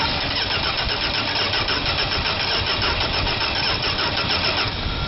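Engine of a 1971 Dodge Coronet being cranked with the starter, a loud, steady, rhythmic churning that continues for several seconds without catching.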